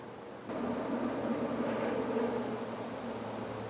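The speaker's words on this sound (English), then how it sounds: "Two totally different kind of bees coexisting." A low, steady buzzing of bees fills the air, joined by a faint repeating insect chirp in the background.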